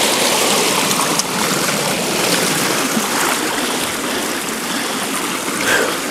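Fast-moving stream water rushing steadily at otter trapping sites, a loud, continuous broadband wash heard close by with no talking.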